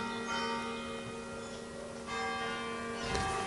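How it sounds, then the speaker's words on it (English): Church bells ring in a town in Italy, heard from inside an abandoned mansion: sustained bell tones hum steadily at a moderate distance, with a fresh strike near the end and no voices. "It's nice with like church bells and exploring."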